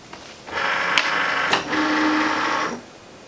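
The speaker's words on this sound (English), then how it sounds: "So I'm just going to insert it into the machine." A Cricut Maker cutting machine pulls in a mat loaded with heavy chipboard, its motor whirring for about two seconds with a couple of clicks at the start and a short pause midway, close and alone.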